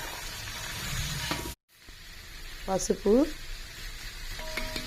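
Sambar vegetable pieces fry in a pan with a close, steady sizzle and stirring. There is a brief cut to silence partway through, and a person speaks briefly over the cooking.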